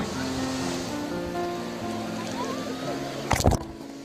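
Pacific Ocean surf washes in at Coronado Beach in San Diego as a soft, continuous wash of water with tonal background hum, then a short, louder splash of breaking water near the end.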